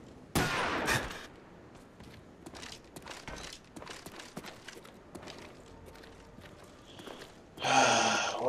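Gunfire in the video game Call of Duty Black Ops, One in the Chamber mode: scattered shots and footstep-like clatter, then a loud burst near the end, with no talking.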